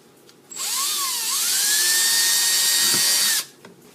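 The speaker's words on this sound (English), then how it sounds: "got all my little holes drilled" A power drill bores small holes in an aluminum bottle being made into an alcohol stove, a loud high-pitched whine spinning up, holding steady for about three seconds, then cutting off abruptly.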